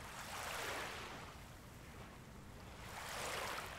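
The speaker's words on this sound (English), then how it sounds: "Let the sound of the waves wash over you." Soft ocean surf swells and recedes in slow washes, gentle and steady with no voices.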